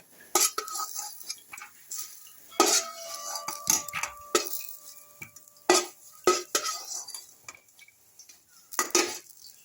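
Fried eggplant pieces are lifted from a pan of hot oil while cooking a small-fish curry: repeated sharp spatula clinks and scrapes against the metal pan, close and irregular, over a faint sizzle.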